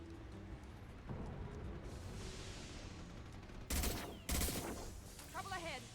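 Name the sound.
high impact gunshots in video game Mass Effect 2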